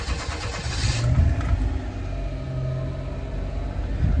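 A Daihatsu Mira engine, recently given a full tune-up, starts and settles into a steady idle, heard close and fairly loud with no talking.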